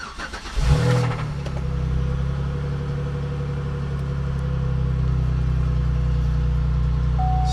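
A Pontiac car engine cranks briefly, catches and starts right up, then settles into a steady, close idle that runs on alone with no talk.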